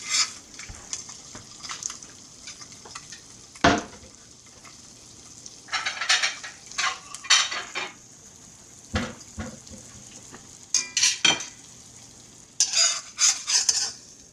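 Eggs cook in a pan with a soft sizzle, punctuated by repeated scraping and stirring strokes of a utensil against the pan and occasional clinks, close and moderately quiet.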